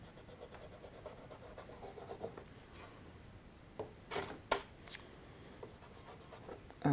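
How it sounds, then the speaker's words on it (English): An eraser rubs over smudged pencil on a pen-and-pencil house drawing, faint soft scrubbing with a few brief louder strokes, close by and with no voices. "erase all the bits that you smudged just to clean the background"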